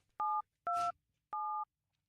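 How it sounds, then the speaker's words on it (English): Three telephone keypad tones beeped one after another, clean and evenly spaced, with the middle tone slightly longer and silence in between. "let me dial these idiots up"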